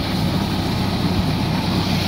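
A PTO trolley is driven by the reverse PTO while the braked tractor stays locked in place, making a steady, loud mechanical drone of engine and running gear with no break and no voices.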